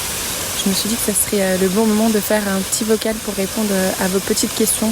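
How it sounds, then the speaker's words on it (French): A waterfall in Minca, Colombia, rushes as a loud, constant broadband roar that never lets up, with someone speaking close over it throughout. "Je ne sais pas si vous entendez le bruit de la cascade derrière moi"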